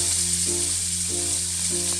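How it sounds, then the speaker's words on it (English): Chopped onions and jalapenos sautéing in heated olive oil for chicken tortilla soup, a loud continuous sizzle with a low steady hum running underneath and no speech. "Now you're going to want to saute these for about 5 minutes."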